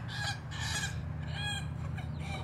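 Loud chicken squawks and clucking close by as a rooster mates with a hen, in bursts, with a constant low hum underneath.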